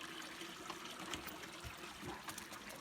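Steady broadband water trickling and babbling, like a small creek running over stones, continuous and fairly close with no voices.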